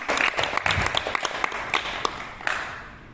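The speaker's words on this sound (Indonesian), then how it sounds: "Berikan tepuk tangan buat Tuhan." A church youth service audience claps together in a lively burst of applause. The claps are dense and layered, then thin out near the end.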